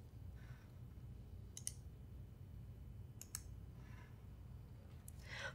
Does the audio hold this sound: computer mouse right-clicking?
yes